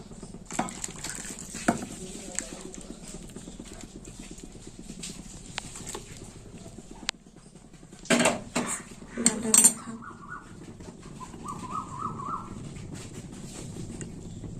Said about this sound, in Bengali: এবার আমি ডালটা মাছের মাথার উপরে ঢেলে দেবো